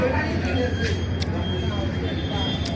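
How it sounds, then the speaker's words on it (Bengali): A train arriving at Bamonnaga railway station at night, a loud continuous low rumble and rolling rail noise close by with faint sharp clicks, and voices talking in the background. "এই 8টার সময় ট্রেন আসতেছে।"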